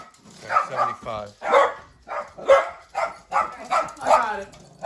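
A dog barks repeatedly indoors, about eight or nine close, loud woofs in an irregular rhythm, each bark short with brief pauses between.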